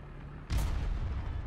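A Sherman IC tank cannon fires once in War Thunder, a sudden heavy boom that rolls into a sustained low rumble after a quiet idling hum.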